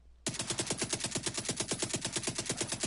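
Rapid automatic fire from a silenced tactical UMP45 in a video game, an even stream of about two dozen suppressed shots in one continuous burst, close and without talk.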